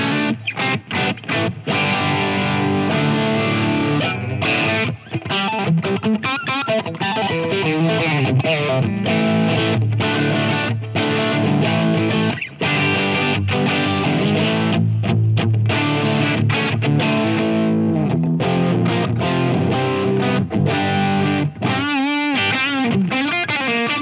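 Electric guitar through the tube zone of an MI Audio NeoFuzz pedal, a crunchy distorted tone with sustained chords and riffs played continuously and loud, with no voices.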